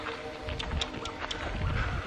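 Quiet hoof clops from a horse walking outdoors as it follows along, soft irregular footfalls with rustling over a low background.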